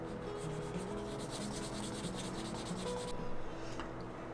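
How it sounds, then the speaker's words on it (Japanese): Leather edge wax on a bracelet being buffed with a canvas cloth, a steady soft rubbing and brushing scrape repeating at close range, quiet and without any voices. "このハンプでコバワックスの表面を磨いて"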